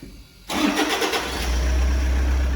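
A 2010 Toyota Prado 3.0 litre diesel with a fuel transfer system fault cranks briefly and catches, then settles into a steady, close diesel idle.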